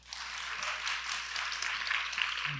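An audience at the 2023 Seoul International Writers' Festival opening ceremony gives steady applause to welcome the Literature Translation Institute of Korea's director, a dense, even wash of clapping that holds for the whole stretch.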